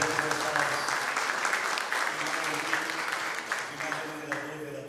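An audience at an animal health seminar applauds for city councillors, a dense, continuous wash of clapping with murmured voices underneath, steady and fairly close throughout.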